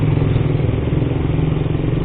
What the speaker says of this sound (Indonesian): kalau suara knalpot Satria itu lumayan agak cukup berisik ya